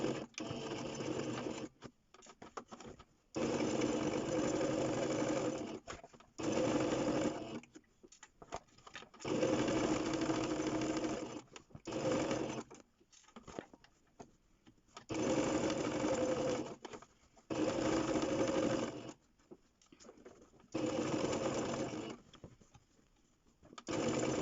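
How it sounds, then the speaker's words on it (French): A sewing machine stitches all the way around a fabric Easter basket in repeated bursts of close, steady mechanical whirring, each a few seconds long, separated by brief pauses. "Donc la couture commence,"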